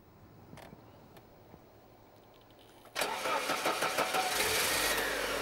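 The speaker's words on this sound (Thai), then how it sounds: "เครื่องยนต์ก็ติดง่ายนะครับติดง่าย" A used car with an automatic gearbox starts up, a sudden loud catch of the engine after a quiet stretch, then settling into a steady, smooth idle close by.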